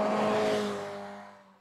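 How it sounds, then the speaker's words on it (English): A Ferrari Mondial engine revs hard, loud and close, then its note fades and drops away as the revs come down over under two seconds. "The engine sounds like a Ferrari."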